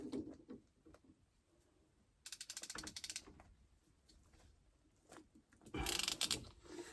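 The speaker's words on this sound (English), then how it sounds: "So then we put our crimp on there. We got a PEX crimping tool we borrowed from the hardware store." A borrowed PEX crimping tool clamps a fitting joining 3/4-inch and 1-inch PEX pipe during a jet pump install, giving two short bursts of quick ratcheting clicks amid quiet handling noises, with no talk.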